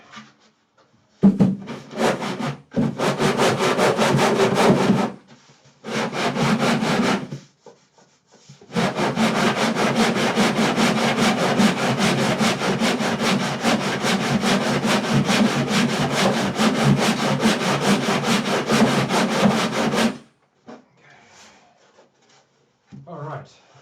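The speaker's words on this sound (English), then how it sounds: "I need to sand this bit here" Sanding wood on a custom-built guitar, with long continuous rasping strokes in two bursts, loud and close, separated by brief pauses.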